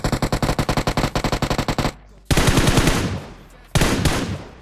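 Gunfire in the mobile shooter BGMI, an AMR anti-materiel rifle: a rapid string of loud, evenly spaced shots, then two heavy booming blasts with long ringing decay.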